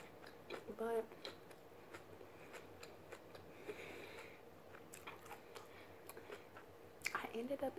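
Soft, close chewing and biting of rice eaten with chopsticks in a quiet mukbang-style recording, faint moist mouth sounds over low background hiss with a couple of louder bites.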